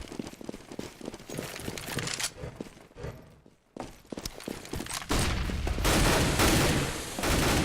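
Bursts of rifle fire crackle through a Counter-Strike professional match, with single shots and rapid volleys, a brief lull, then heavier sustained shooting toward the end.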